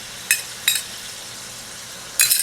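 Chopped garlic is dropped into a pot of Brooklyn Sunday tomato sauce, giving a low steady simmer broken by three short metallic scrapes or clinks of a spoon, close and with no talking.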